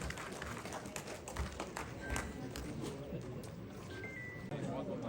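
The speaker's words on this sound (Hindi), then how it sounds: "तालियां हो जाए भाई।" Audience clapping at an award ceremony, a crowd's applause of brisk, overlapping hand claps at moderate volume continuing throughout, with some talk mixed in.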